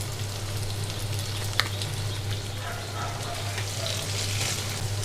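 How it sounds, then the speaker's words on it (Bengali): Aromatic rice fries with garam masala in a pan, a steady gentle sizzle with one brief clink of stirring. "চালটা আমার ভাজা ভাজা হয়ে গিয়েছে"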